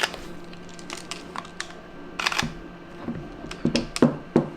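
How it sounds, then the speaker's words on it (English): Camera shutter held close to the mic, a few short sharp mechanical clicks and snaps, sparse and irregular, the last ones louder, over a faint steady fan-like hum. "this is a camera shutter."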